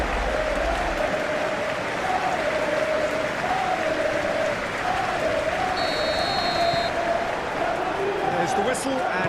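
A stadium crowd in the eFootball PES video game applauds and cheers in a dense, steady roar that holds unbroken throughout, with a faint commentary voice beneath it.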